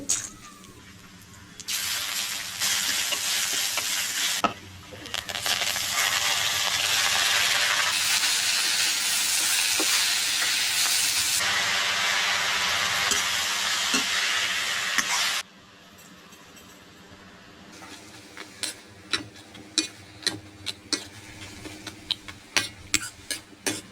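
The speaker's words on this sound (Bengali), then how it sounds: "রসুন আর বাদাম দিয়ে লাল শাকটা রান্না করব" Red amaranth greens cook with garlic and peanuts in a pan, giving a loud, steady steaming sizzle that starts and stops in long stretches, then gives way to quieter scattered ticks and pops.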